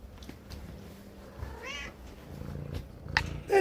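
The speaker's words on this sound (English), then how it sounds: "That's him I can hear purring." Sawyer, a house cat, gives a short meow amid soft, low purring, with small handling and movement noises around it, close and quiet.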